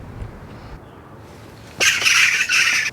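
Tropical birds in a lush Riviera Maya garden let out loud, harsh squawks that start after a quiet stretch of soft background ambience and continue in two close, overlapping bursts to the end.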